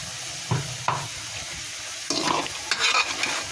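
Chicken curry being stirred in a pan, with a few scraping strokes and sizzling frying bursts at irregular moments, close and without talk.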